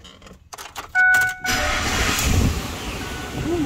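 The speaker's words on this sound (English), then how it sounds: "I gotta grab the keys." Keys for a 2007 Ford F150 XLT pickup jangle briefly up close in the cab, followed by a sustained electronic chime and a steady low rumble.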